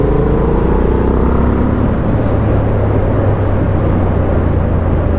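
A 2023 Honda Hornet naked motorcycle engine running loud and close with the clutch in, a steady dense rumble that rises briefly in revs early on and then holds at a rough, throbbing idle-to-rev drone with no talk over it.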